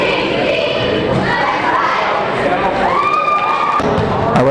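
A high school basketball gym during a break, with a crowd cheering and chanting in a loud, busy wash of voices, punctuated by thumps and a few sharp shouts.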